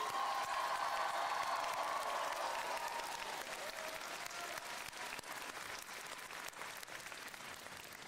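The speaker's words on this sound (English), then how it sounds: "A nice loud round of applause there" Sustained loud round of applause from a commencement audience honoring the valedictorian and salutatorian, steady dense clapping that eases slightly in level toward the end.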